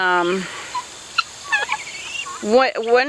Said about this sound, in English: king of the batch, Mr. King, silly chicken